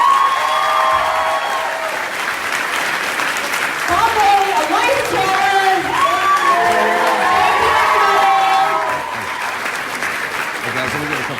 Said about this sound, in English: hey, let's give a round of applause.